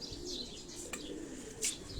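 A pigeon of a Lahore loft breed cooing softly on a Karachi rooftop, faint low coos with a few thin chirps and a brief wing flutter near the end.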